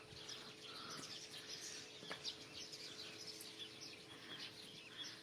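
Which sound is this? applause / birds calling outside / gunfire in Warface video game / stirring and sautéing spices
birds calling outside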